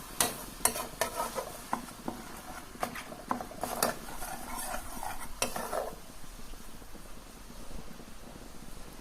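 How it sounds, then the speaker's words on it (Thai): Coconut milk and Thai curry paste simmer in a pot for a river snail curry with betel leaves. A spoon scrapes and clinks against the pot in quick bursts for several seconds, then settles into a quieter low bubbling. "เคี่ยวให้กะทิหอมพริกแกงค่ะ"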